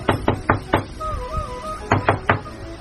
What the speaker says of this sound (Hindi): इतने में दरवाजे खटखटाने की आवाज आती है।